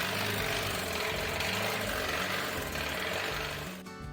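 An Audi engine that went 65,000 miles without an oil change runs with a rapid, steady mechanical chatter and ticking clatter, then drops away abruptly near the end.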